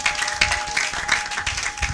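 A church congregation bursts into applause, a short stretch of brisk, steady clapping from many hands, fairly close and filling the room with no voices on top.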